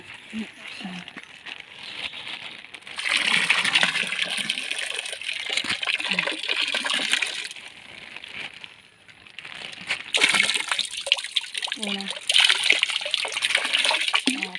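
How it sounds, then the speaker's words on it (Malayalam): Fish poured from a bucket into a stream make broad rushing splashes and gushing water in two long bursts, close and loud, with a voice talking in the pauses between. "നമ്മൾ ഇതിനെ തോട്ടിൽ കൊണ്ടുപോയിടാം. നമ്മൾ തോട്ടിൽ ഇടുകയാണ് കേട്ടോ."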